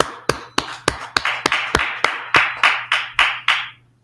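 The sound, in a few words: audience clapping in class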